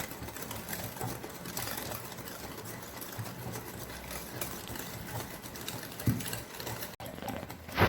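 Fast, steady, continuous churning as dalgona coffee mixture is beaten by hand in a bowl, a dense mechanical-sounding rhythm held at moderate level throughout without talk.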